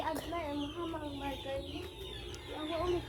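A chicken clucks and calls repeatedly nearby, with a steady murmur of background noise underneath.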